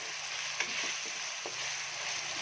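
Masala for hundi aloo gobi sizzles steadily in a pan while being roasted, a continuous frying hiss with a few soft stirring scrapes, close and moderately quiet.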